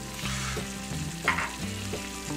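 Ground pepper and cumin sizzle in a pan with ají amarillo paste for huancaína sauce while being stirred, a soft steady frying hiss under background music.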